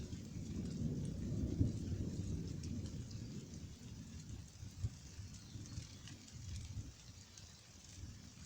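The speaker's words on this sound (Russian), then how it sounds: "Слышите, да, как гремит?" Low, rolling thunder rumbles through a thunderstorm over steady falling rain, a faint and distant-sounding wash with a few swells and sharper drops.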